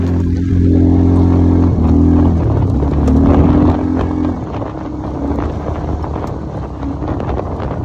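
A Chinese 500cc quad's engine revs loud and close, its tone climbing and dropping through several throttle changes before easing back under gusts of wind noise.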